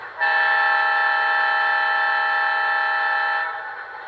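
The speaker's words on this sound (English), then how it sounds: "So I thought that was a much more pleasant horn than the like foghorn sound." An MTH PS3 upgrade-kit model diesel locomotive sounds one long, steady electronic horn blast lasting about three seconds, loud and close, then cuts off.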